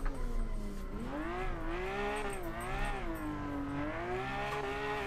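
An RWB Porsche drift car in the Assetto Corsa racing game, its engine droning and revving up and down in smooth sweeping pitch changes, with brief tire squeals, loud and steady throughout.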